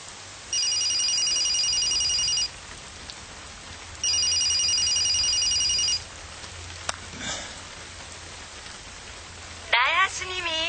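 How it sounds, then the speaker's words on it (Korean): A telephone bell rings in two long bursts separated by a pause, loud and steady with a faint rain-like hiss underneath, followed by a brief click. "전화벨이 울린다."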